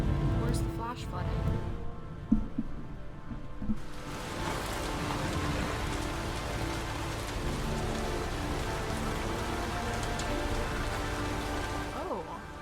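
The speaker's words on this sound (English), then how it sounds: "Does it rain throughout this whole game?" Rain in the video game Heavy Rain pours as a steady, dense hiss of drops on surfaces that runs through the whole stretch, with a few brief voices and game sounds over it early on.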